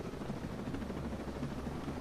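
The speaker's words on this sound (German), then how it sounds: "Da kommt ein Helikopter." Helicopter in the Ghost Recon Breakpoint video game, a steady low rotor drone with continuous broadband whirring that holds at a constant, fairly distant level throughout with no talk over it.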